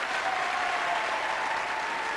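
Studio audience at the 1994 French TV game show Le Juste Prix applauds a contestant, a steady dense wash of clapping held at an even level throughout.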